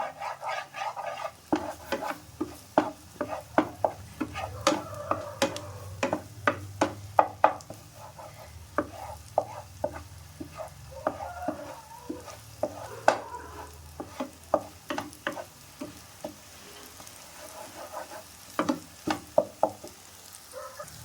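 Broccoli gravy ingredients sauté in a pan, with a spoon scraping and tapping in steady, repeated strokes over a low, continuous sizzle, close and clear with no talking.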